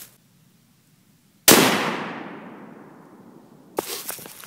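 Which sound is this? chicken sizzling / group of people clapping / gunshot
gunshot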